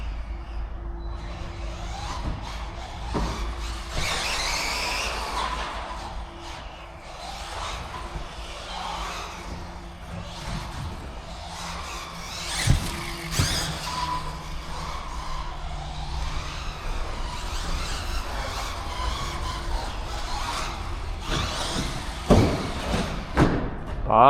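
An RC car races around an outdoor RC park, its motor buzzing and surging with short throttle bursts, then landing with loud thumps after a jump and flip in the air, while people talk nearby throughout.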